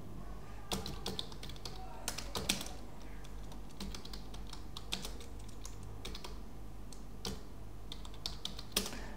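Someone types C code on a computer keyboard, producing quiet, close, irregular clicks and bursts of keystrokes throughout, with no talking.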